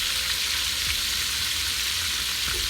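Meatloaf sticks, some shaped into small donut rings, fry in hot oil in a pan, giving a steady, dense sizzle and crackle throughout with no pauses, loud and close.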